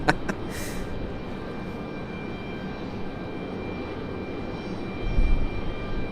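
A C-130 military transport plane passes at Raleigh Durham International Airport, its steady engine drone filling the whole stretch at a constant level and swelling slightly near the end, with no voices.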